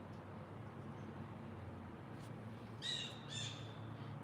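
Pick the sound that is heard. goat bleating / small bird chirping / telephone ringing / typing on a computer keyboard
small bird chirping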